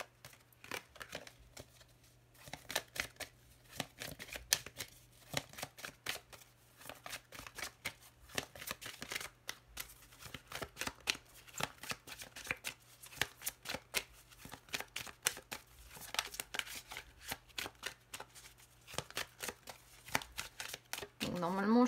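Tarot cards being shuffled by hand produce rapid, close riffling clicks and flutters in repeated bursts, quiet overall, with a faint steady hum underneath.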